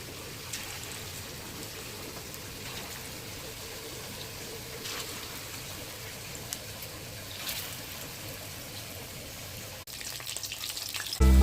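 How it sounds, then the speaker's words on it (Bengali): Drumstick flower fritters in gram-flour batter frying in hot oil, a soft continuous sizzle with scattered pops that holds steady, then grows busier and louder in the final seconds. "এটা গরম গরম ভাজা হচ্ছে"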